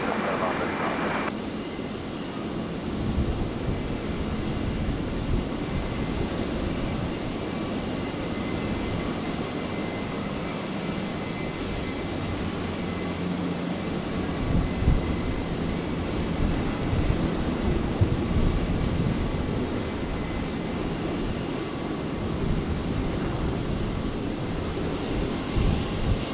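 Airliner touching down on runway 01 left at Brisbane Airport, a steady broadband jet roar held at constant loudness throughout, with an air traffic control voice and talk over the top.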